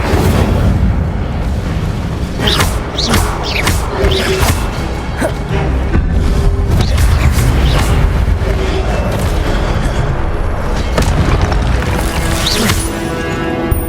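Fire spell cast in the video game Hogwarts Legacy gives a loud, dense roar of booming bursts and crashing impacts that continues without a break, with little speech.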